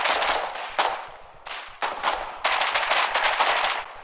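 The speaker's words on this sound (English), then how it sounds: "Warden field machine gun up the road." Sustained automatic fire from a field machine gun in the war game Foxhole, in loud, rapid bursts with brief gaps between them and no talking.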